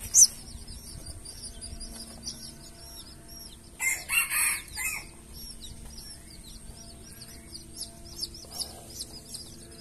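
Hybrid jungle fowl chickens cluck and crow close by, with a louder burst of crowing and squawking midway among steady chirps and small bird calls.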